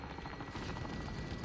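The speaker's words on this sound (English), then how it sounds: "Oh, that's a helicopter." Helicopter rotor chop in a multiplayer shooter video game, a steady, dense thudding that holds level for the whole moment amid game noise, no talk over it.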